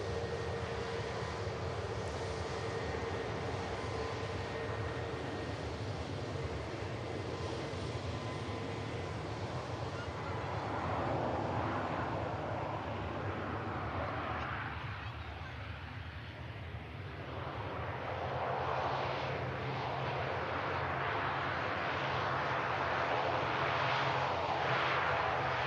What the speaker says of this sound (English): Another aircraft about to touch down.